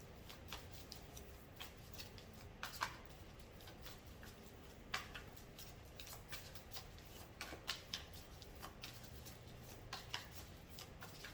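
Tarot cards shuffled by hand in a quiet room, with soft riffling and sharp irregular card snaps and taps scattered across the stretch. No voice is heard.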